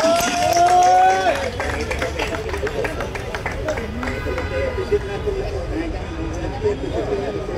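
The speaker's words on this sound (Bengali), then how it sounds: "সবাই করতালি দেই আমরা।" A crowd claps together at a cricket event ceremony, a dense, steady patter of applause running throughout, with voices speaking over it.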